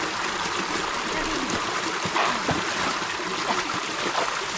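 A long river flows with a steady rushing wash and occasional trickles and splashes nearby, while people talk over the water.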